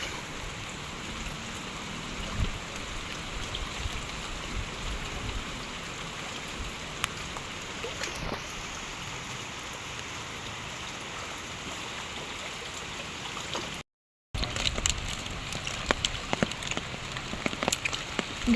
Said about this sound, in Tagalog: Grabe ang ulan, malamig.